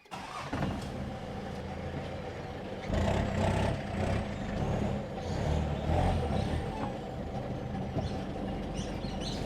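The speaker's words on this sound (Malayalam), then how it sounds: "ഫസ്റ്റ് വണ്ടി പറമ്പിലേക്ക് കയറ്റിയിടുന്നു" A 1991-model off-road vehicle being driven up into a plot of land: an engine catches and idles, then revs louder and rougher as it pulls in, close by and without talk.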